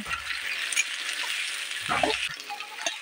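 Fish curry with ginger sizzles steadily in a wok while a utensil scrapes and stirs it in a few short strokes near the end.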